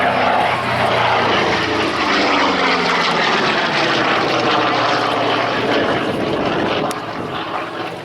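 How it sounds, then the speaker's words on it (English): A P-47 Thunderbolt, a large, heavy single-engined WWII fighter, flies over Duxford at an air festival: a loud, continuous propeller-engine roar that fills the whole stretch, with a slowly shifting pitch as it passes and eases slightly at the end. "what a pleasure it is to see a P-47 Thunderbolt back in Duxford skies for the first time since 2013."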